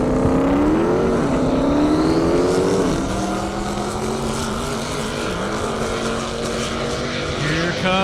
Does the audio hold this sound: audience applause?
no